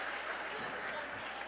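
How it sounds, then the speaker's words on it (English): Crowd at a high school girls' basketball game applauding as seniors leave the floor, a steady wash of clapping heard from a distance under loud commentators' talk. "the seniors are off the floor and get a nice hand from the crowd"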